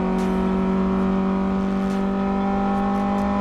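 A Renault Clio race car engine drones loud and steady at high revs on track, a constant buzzing roar with no letup.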